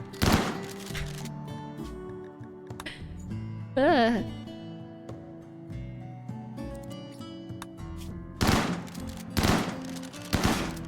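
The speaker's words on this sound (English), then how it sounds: "Gunshots are really loud in reality" Rapid bursts of gunfire from a colony-building video game ring out in clusters, including quick automatic volleys, with game effects between and a couple of loud bursts near the end.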